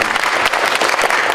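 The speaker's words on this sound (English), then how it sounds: "Give them a big round of applause." A crowd applauds panelists at a community meeting, a dense burst of clapping that fills the room briefly.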